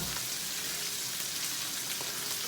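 Onions and sausage frying in a pot, a steady close hiss and crackle of sizzling without pause or talk.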